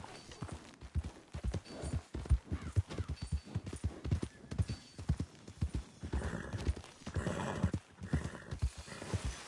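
In Red Dead Redemption 2, a horse walks with a steady, even clip-clop of hooves, close and clear for several seconds, slowing and thinning out toward the end with a brief snort or whinny mixed in.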